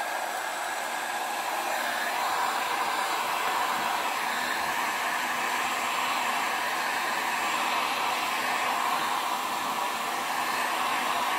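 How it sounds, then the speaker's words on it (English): A heat gun blows continuously while warming craft pieces, a steady airy hiss with a constant motor whine that stays even and close with no pauses or talking. "Just a little warm up with the heat gun."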